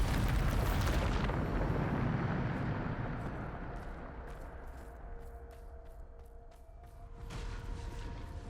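A Bombarda spell explodes in Hogwarts Legacy, a loud, deep blast at the start whose rumble fades over several seconds, with scattered crackles and a second, smaller burst near the end.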